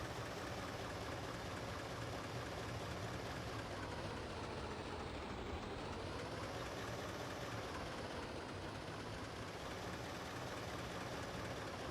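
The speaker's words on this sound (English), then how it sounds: "The engine sounds like it's struggling a little bit." A struggling car engine in the video game My Winter Car makes a dense, steady droning rumble that stays constant and fairly loud, with no talking over it.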